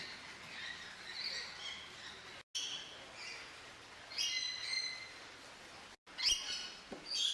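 Hornbill calls at Cerza zoo in Hermival-les-Vaux, Calvados: bursts of high, chirping notes repeat in short clusters, moderately near, over a steady outdoor background hiss with brief dropouts.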